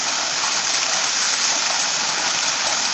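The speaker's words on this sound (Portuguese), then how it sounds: "do outro a Sabesp descartando água potável" Drinking water discharged from a reservoir at Franco da Rocha, a steady broad hissing gush of rushing water, constant and fairly loud throughout with no voices.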